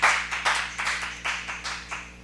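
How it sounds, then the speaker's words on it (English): Thin audience applause at a youth poetry slam, a sparse group clapping in loose bursts that rise and fade across a couple of seconds, fairly close and without voices. "Let's give our sacrificial a round of applause there."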